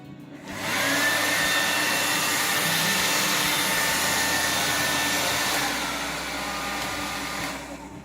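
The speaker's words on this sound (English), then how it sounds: "The only possible solution is drying my hair with hair dryer" A hair dryer blows steadily with a loud, constant whooshing roar that drops slightly in pitch partway through before shutting off.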